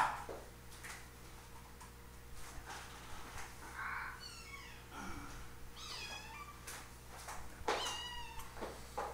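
A pet cat meows several times indoors, short rising calls spaced a few seconds apart over a low steady background hum, fairly faint and close.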